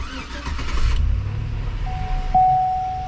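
An older GMC Yukon truck engine runs smoothly with a low, steady rumble, and a thin, sustained electronic tone joins partway through.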